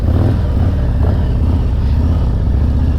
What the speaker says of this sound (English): I like to blip that throttle